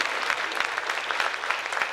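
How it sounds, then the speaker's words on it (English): Church congregation clapping hands in praise at the end of a Sunday service, a steady, fairly soft wash of many hands clapping together, with no voices over it. "One more hand clap of praise"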